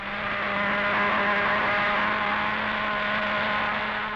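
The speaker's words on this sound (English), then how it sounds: "Pulse jets are the newest. They're fast as well as loud" A loud, steady droning roar from a model aircraft pulse jet engine, with a constant buzzing tone, holding near and unbroken throughout.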